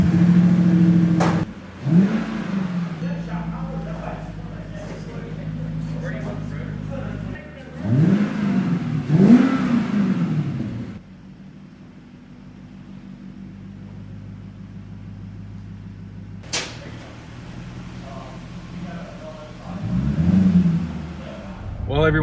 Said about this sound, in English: see how this sounds with just one, because I need some more V8 sound.